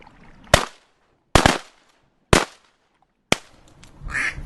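Four sharp, loud shotgun blasts ring out at roughly one-second intervals during a mallard duck hunt, each with a short decaying tail, followed by a faint rustling noise.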